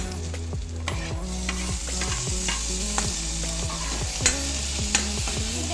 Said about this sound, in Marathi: आता आपण टाकणार आहोत ही मिरची. टोमॅटो टाकून घेऊयात आपण.